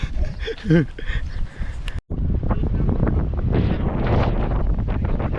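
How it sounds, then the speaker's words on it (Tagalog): Strong wind roars and buffets the microphone in a constant low rumble, blowing water about, briefly cutting out once, with voices speaking faintly at the start. "Hinahangin yung tubig sa lakas ng hangin yan."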